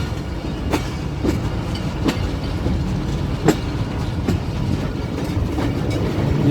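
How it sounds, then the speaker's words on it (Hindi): Hazara Express train with its locomotive rolling past a junction cabin, a loud, steady rumble of wheels on rails with rhythmic clicks of railcars passing close by, no voices. "अब देखेंगे लोकोमोटिव नज़र आ रहा है हज़ारा एक्सप्रेस का"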